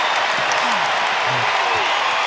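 Basketball fans in an arena at a Tennessee vs Kentucky college game stand and applaud, a steady roar of clapping and crowd noise throughout, with faint voices mixed in.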